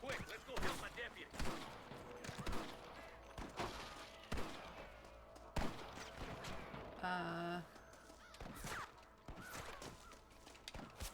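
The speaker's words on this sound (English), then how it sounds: "I can hear more gunshots." Gunfire in the Western video game Red Dead Redemption during a shootout at Pike's Basin, with sharp shots and bursts scattered throughout and a brief tonal sound midway, heard behind game sounds.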